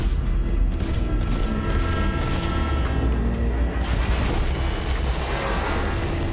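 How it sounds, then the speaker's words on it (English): An explosion in the Borderlands 3 video game on a forest railway, a dense sustained roar and rumble with crackling debris filling several seconds, loud and continuous with no voices. "Explosion echoed through the forest, and those devil riders didn't even get a chance to hit the brakes."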